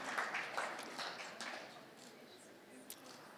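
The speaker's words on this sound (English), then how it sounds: "Another round of applause as they come off the stage." Audience at a startup ecosystem awards summit applauding as winners leave the stage, a soft, distant patter of clapping heard faintly under a speaker's voice.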